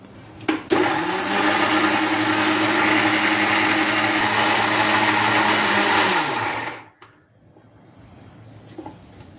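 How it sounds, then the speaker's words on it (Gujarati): A mixer grinder whirs loudly and steadily as it grinds ice cream batter in its jar for about six seconds, then winds down and stops, leaving near silence. "હવે આપણે મિક્સી જારમાં લઈ લીધું છે ને ગ્રાઇન્ડ સારી રીતે કરી લઈશું"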